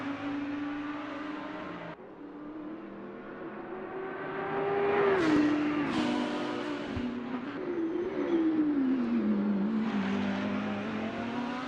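Audi and Lamborghini GT3 race car engines in the Assetto Corsa game, at Bathurst's 12-hour endurance race. They rev and whine loudly and steadily throughout, with pitch rising and falling through gear changes and a sharp shift near the middle. No talk.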